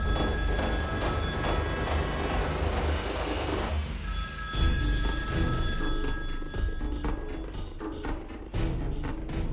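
A telephone rings indoors in a Hindi television drama, a repeated electronic ring pattern over background music, with a brief break in the middle before the ringing resumes.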